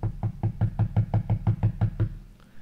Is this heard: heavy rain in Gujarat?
no